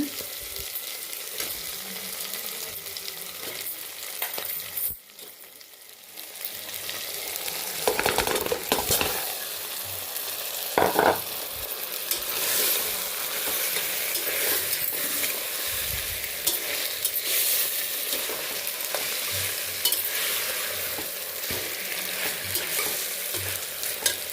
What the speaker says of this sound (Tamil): இப்போ வந்து நான் சிக்கன் போட போகிறேன்.